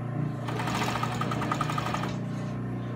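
A sewing machine stitches a quarter-inch seam at a 2.5 stitch length, a close, steady mechanical whir with a fast rhythmic chatter that runs for about two seconds and then winds down.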